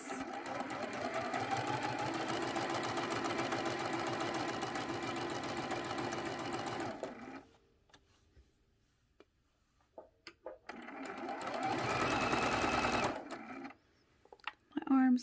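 A sewing machine runs a straight stitch on pocket fabric near a folded edge, with a steady close whir for about seven seconds, a quiet pause, then a second shorter burst of stitching.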